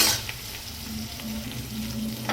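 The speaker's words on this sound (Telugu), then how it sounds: "జస్ట్ లైట్గా కొంచెం తడిపోయే వరకు ఫ్రై చేసుకోవాలంటే" Boneless chicken frying lightly in a pan gives a continuous close sizzle with a low steady hum beneath and a few faint taps, no talking.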